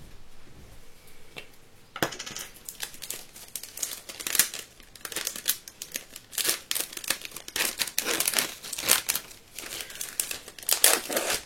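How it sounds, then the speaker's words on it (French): A scrap piece of plastic is handled close up, giving dense, continuous crinkling and crackling that begins faintly and swells into bursts of rustle for about ten seconds, with no voices. "J'ai un morceau de plastique ici,"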